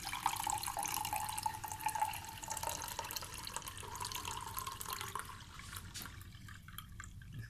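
Papaya leaf juice, blended twice, strained in a kitchen: steady wet trickling and dripping of liquid running through a strainer, continuous and close, with no voices.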